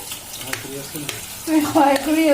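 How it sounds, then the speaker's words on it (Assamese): Fish frying in a pan with hot oil, a steady sizzle rising and growing louder in the second half, with a few light scrapes from turning the pieces. "মাছখিনি ফ্ৰাই কৰি লৈছো"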